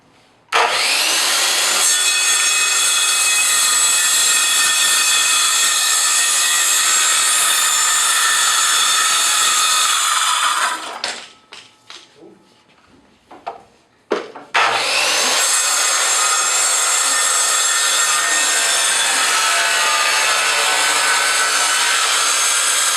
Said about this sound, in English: You'll have to finish it off with the jigsaw.